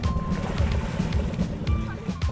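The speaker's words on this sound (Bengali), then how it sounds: "ওই যে বোটটা আসছে তোমাদের উপর দিয়ে আসবে" Boat on the Ganges river approaching through cold morning bathing, a steady low engine rumble with water wash, people's voices calling over it.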